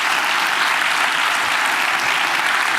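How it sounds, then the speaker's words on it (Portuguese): Applause from a church congregation during a Portuguese-language worship service, a steady, dense wash of many hands clapping together for a few seconds with no voices over it. "E vamos aplaudi-lo, né,"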